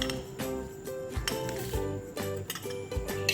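A spoon whisking chocolate mug cake batter with sugar and oil in a mug, giving rapid repeated clinking and scraping against the ceramic in a quick steady rhythm, close and clear.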